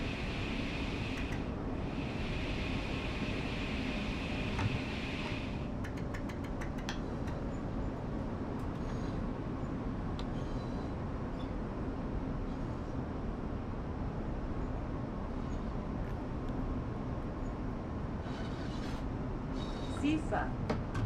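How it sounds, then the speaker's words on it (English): A train driven manually on the Semmering mountain railway in Train Sim World 4 gives a steady, loud broadband rumble and hum throughout, with a brief higher whine early on and a voice faintly present. "I'm now driving the train manual."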